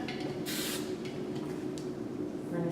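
Hairspray sprayed onto teased hair during a bridal updo, a short close hissing burst, faint rustling and handling noises continuing afterward.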